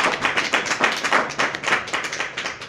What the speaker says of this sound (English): Another round of applause for Marc Mannheimer